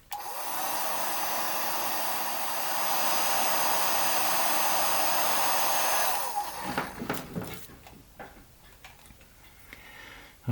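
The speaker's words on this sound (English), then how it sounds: "I'm just going to help it with the hairdryer so I don't have to hold it all day here." A hair dryer blows steadily on glue drying along a model ship for about six seconds, then cuts off, followed by light ticking and handling sounds nearby.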